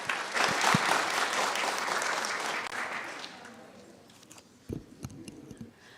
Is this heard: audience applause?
yes